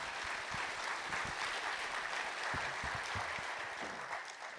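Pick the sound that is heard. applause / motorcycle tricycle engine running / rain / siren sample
applause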